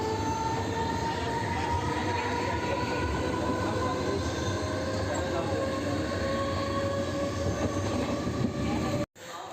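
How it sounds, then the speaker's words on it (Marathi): A Mumbai local train to Thane rumbles along steadily at close range, with a constant roar, rattling carriages and a faint high wheel squeal running through. "आता मी फायनली लोकल ट्रेन पकडून चाललो आहे ठाण्याला"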